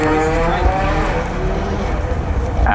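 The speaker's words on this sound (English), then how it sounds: "a fantastic sound as the car makes its way past" A Ford M-Sport rally car at Wales Rally GB 2019 in Colwyn Bay swings through a chicane right by the commentary box, its engine a loud, close, continuous tonal roar that holds steady throughout.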